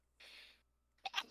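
A single sneeze bursts out close and alone partway through a tabletop role-playing game session, a short breathy intake followed by a sharp, forceful expulsion.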